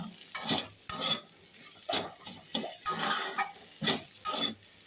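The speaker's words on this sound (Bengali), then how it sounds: "নুন দেওয়া হয়ে গেল ভালো করে মাখিয়ে নিই আমি একসাথে মিশিয়ে নিই" Seeded banana is squeezed and mixed with salt by hand, giving a series of separate, soft, wet squelching strokes at a slow irregular rhythm, close and fairly quiet.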